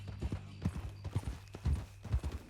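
A horse's hooves clip-clop in the video game Red Dead Redemption 2, a close, rhythmic run of hoofbeats at a walking pace, heard without speech.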